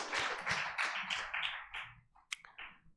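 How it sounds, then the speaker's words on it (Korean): A small church congregation claps in scattered bursts during an afternoon service, several uneven rounds of hand claps that thin out into a few isolated claps toward the end, with no talking. "박수 한번 쳐줍시다. 박수."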